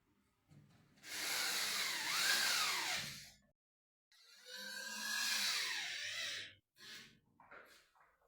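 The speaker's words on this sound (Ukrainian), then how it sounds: "ложимо гіпсокартон наверх, зажимаємо брусками і вкручуємо." A power screwdriver driving screws through drywall into wooden battens whirs in two long bursts with a rising, falling pitch, then a short third burst, close by.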